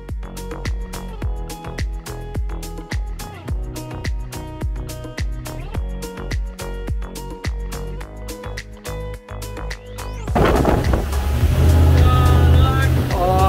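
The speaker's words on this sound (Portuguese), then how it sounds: "olha ela aí no comando do barco, acelerando e tirando onda" A motorboat accelerates off the coast at Balneário Camboriú or Piçarras, its engine roaring loudly and building steadily, with a heavy rush of water and wind surging in near the end over a pulsing music bed.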